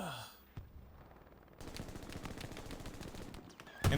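Machine-gun fire in a strategy war game: a sharp crack, then after a short lull a steady rapid rattle of automatic bursts at moderate distance, ending with a louder thump.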